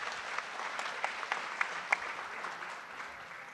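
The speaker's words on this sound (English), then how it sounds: "please join me in giving a final round of applause for our panelists" Moderate, fairly distant applause from the audience at an international mayors forum session, a steady patter of clapping with a few sharper claps standing out, fading slightly toward the end.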